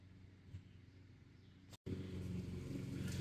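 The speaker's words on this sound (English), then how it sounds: "One of the homeowners is mowing a chunk of grass up by the top of the house." A lawn mower drones steadily at a moderate distance, cutting out for a split second and then returning a bit louder and fuller.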